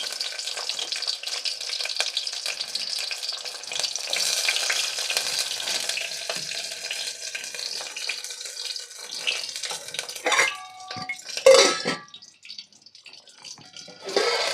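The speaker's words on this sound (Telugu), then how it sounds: "చూడండి ఇవి ఫ్రై అవుతున్నాయి" Cumin, mustard seeds, chillies and onions fry in hot oil for tomato rasam, a close, continuous crackling sizzle that swells into louder bursts and spatters near the end.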